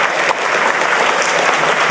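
An opening-ceremony audience claps loudly and continuously, a thick, close wash of hands that barely dips for the full two seconds, with no one speaking.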